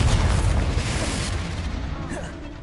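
A Confringo spell explodes in the Hogwarts Legacy video game, a loud, broad rumbling boom that slowly fades over a couple of seconds.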